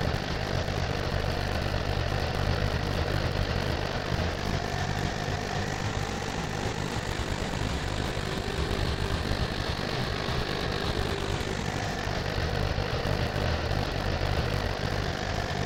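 A tractor engine idles continuously and loudly while moving hay bales on a farm, a steady close rumble with no talking.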